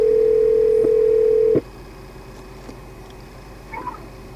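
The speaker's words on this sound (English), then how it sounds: "You can dial like you normally do on your cell phone, except it'll come in through the stereo system." Dial tone played through a Cadillac's Bose car stereo during hands-free phone use: a loud steady tone that cuts off sharply after about a second and a half, followed by faint clicks and quiet cabin hum.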